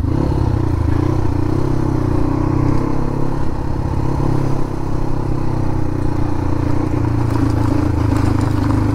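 A Crossfire dirt bike rides off-road with a steady, close engine drone and a rattling clatter running through the whole stretch.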